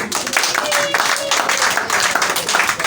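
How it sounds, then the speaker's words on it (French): A church congregation claps loudly and continuously, with dense overlapping clapping filling the whole stretch and voices mixed in. "Il faut applaudir à Dieu."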